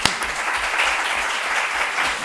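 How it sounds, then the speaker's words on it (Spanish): Attendees at a women and employment conference in Spain clap together for the next speaker, a short, even burst of many hands that holds steady and fades near the end. "Un aplauso para..."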